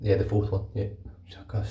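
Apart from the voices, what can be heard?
No everyday noises stand out.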